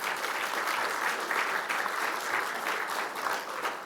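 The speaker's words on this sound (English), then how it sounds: "Let's please give our co-sponsors a nice round of applause." An indoor audience at a literary talk applauds event co-sponsors with a full, steady round of clapping that holds at an even level for a few seconds.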